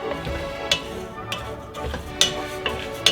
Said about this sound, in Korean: 기름을 두르지 않고 볶게 되겠습니다.